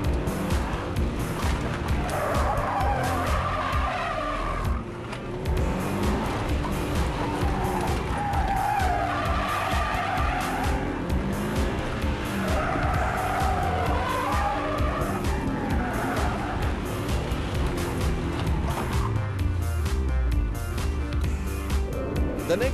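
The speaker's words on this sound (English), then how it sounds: "2006 Evo 9, deliberately puts the car into a sideways slide before turning the vehicle in the opposite direction" A 2006 Evo 9 rally car at the Alphera Dutton Rally is thrown into a sideways slide, with tires skidding and squealing over a loud, sustained engine roar. The sound is close and continuous for the whole stretch.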